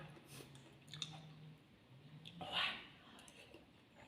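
A person chews a spicy Thai dish close to the mic, with soft wet crunching and smacking bites, one louder crunchy burst midway and faint hums between.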